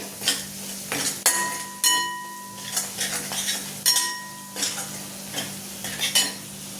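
Browned onions and spices for a dry spiny gourd vegetable dish being stirred in a pan, repeated scraping strokes and metal clinks over a light sizzle, close and rhythmic.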